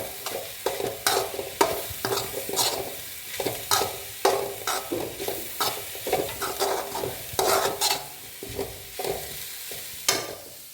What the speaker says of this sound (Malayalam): തേങ്ങയും കുറച്ച് ചെറിയ ജീരകം ഇട്ട് കൊടുക്കുന്നുണ്ട്. നന്നായിട്ട് യോജിപ്പിക്കാം.